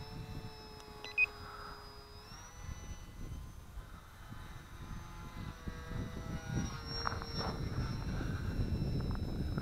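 A small XK DHC-2 A600 radio-controlled model airplane flying, its thin electric motor whine holding a steady high tone that shifts pitch as it maneuvers, faint over wind noise, with a couple of short beeps.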